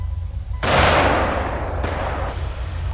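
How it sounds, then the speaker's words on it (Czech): Gunfire in a video game roleplay shootout at a restaurant: a loud, sudden burst of shots erupts and keeps rattling, then a second burst follows about a second later and carries on to the end. "Tady někdo mě střílí ze střechy, ta oranžová budova velká."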